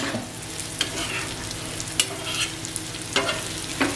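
Spices sautéed in oil on a tawa for a fresh small-shrimp (ola jawla) fry, a crackling sizzle broken by repeated spatula scrapes and taps, close and fairly loud, no voices.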